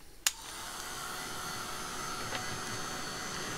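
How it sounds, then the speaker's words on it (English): A Tim Holtz craft heat dryer whirs steadily after a brief click as it starts, a quiet, even airflow drone that runs alone for several seconds. "I'll say this is one Tim Holtz thing that I really do like. This dryer, it's fabulous."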